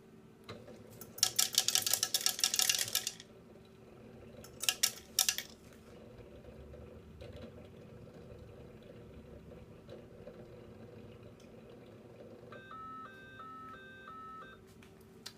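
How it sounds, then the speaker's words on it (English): An ATC tablet and capsule counting machine sounds its low-cassette alarm as a short run of repeated electronic beeps in a stepped tonal pattern, coming after louder mechanical clattering and rattling of the counter. "If there isn't not enough tablets or capsules in the cassette, the ATC sounds."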